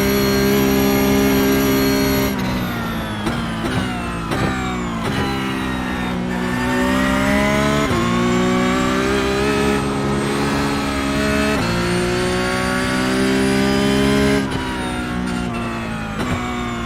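A Porsche Cup race car in iRacing at Bathurst, its engine loud and close, droning steadily with repeated gear shifts and revs rising and dropping as it slows.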